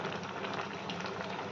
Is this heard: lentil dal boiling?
yes